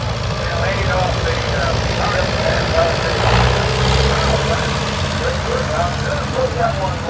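A John Deere tractor engine rumbles and idles steadily during a tractor parade at the National Oliver Show in Boonville, Missouri, heard close and continuous under people talking.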